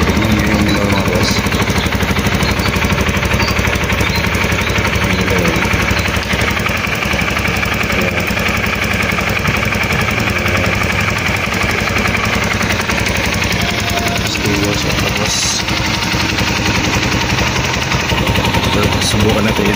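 A Rusi Flash Gen1 motorcycle engine, fitted with a racing ignition coil, runs loud and close with a rough, rapid idle that stays steady throughout.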